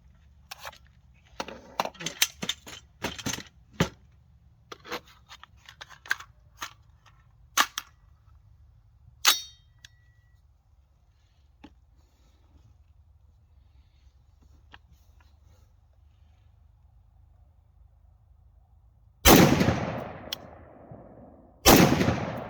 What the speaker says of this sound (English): we'll shoot 5 out of it and just see what it does